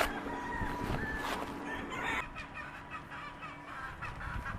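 Homestead chickens cluck and a rooster crows amid a busy backyard flock, the calls layered and fairly close with steady background noise.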